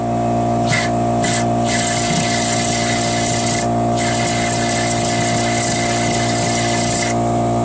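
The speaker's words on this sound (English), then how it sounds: "Got my air compressor and blowing through the air, throwing through the hose to clear out the tank" An air compressor loudly pushes air through the fuel hose of a Troy-Bilt 1842 lawn tractor to clear the tank, a steady harsh hiss and hum with tonal drone, briefly interrupted by several bursts, no talking.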